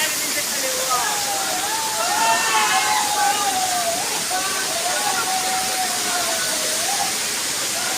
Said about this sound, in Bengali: এইটা হলো শঙ্কর খোলার যে ঝর্ণাটা